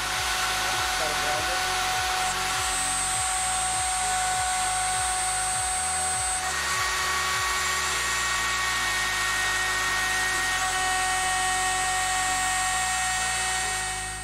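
A StepCraft 2/600 multifunction machine cuts 6061 aluminium alloy with a steady high whine and sustained tones, while a rapid low mechanical chatter pulses beneath throughout.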